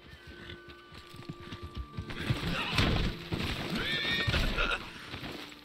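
A horse neighs and whinnies amid clip-clopping hooves in the Red Dead Redemption 2 video game, with a loud snorting whinny near the middle and another toward the end over steady hoof steps.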